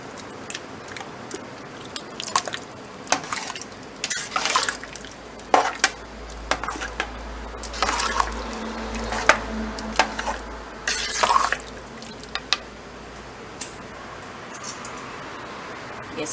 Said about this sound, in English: We'll add a little bit more cumin. Give that a stir.